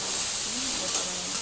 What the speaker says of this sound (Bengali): নাড়াচাড়া করছি ভালোভাবে,